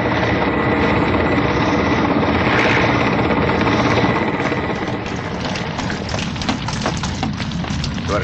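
Helicopter flying in a disaster film, a steady broad engine and rotor roar that holds throughout, loud and continuous with a slightly brighter, more textured stretch toward the end.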